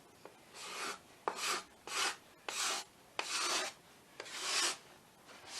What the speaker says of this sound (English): If I see dust, that means that my card scraper is not as sharp as it should be